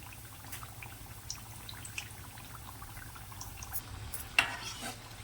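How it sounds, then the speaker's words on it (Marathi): Aloo tikki shallow frying in oil, a quiet continuous sizzle with faint crackles and a sharper pop near the end, heard close without talk. "परत दुसऱ्या साईडनं थोडासा हलकासा भाजून घ्यायचा आहे"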